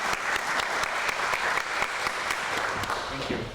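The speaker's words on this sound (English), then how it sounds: "Please give a round of applause for Mr. Sapra." A crowd at a US naturalization ceremony applauds warmly, with sustained clapping from many hands at an even level throughout, fading slightly at the end.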